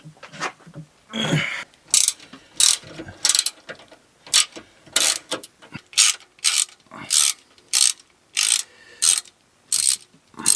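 A ratchet fitted with a 10 mm socket and swivel loosening oil pan bolts on a 2015 Toyota RAV4, sounding as a steady series of close, crisp clicking bursts in regular rhythm, about a dozen strokes.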